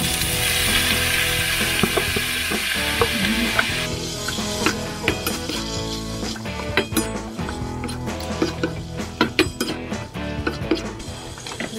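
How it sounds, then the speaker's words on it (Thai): Pork meatballs sizzle loudly in a hot pan, then metal utensils clatter and scrape against the pan in irregular knocks. "โอเคกระทะร้อนแล้วเอาลูกชิ้นใส่เลยนะคะ"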